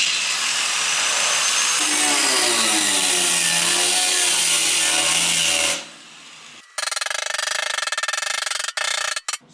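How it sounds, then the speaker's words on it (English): Cutting wheel slicing into the sump area of a Fox Body Mustang fuel tank, a loud, steady high-pitched abrasive whine with shifting tones for about six seconds, then a brief pause and a shorter burst of grinding that stops and starts. "Let me get a cutting wheel. Slit it and forget it."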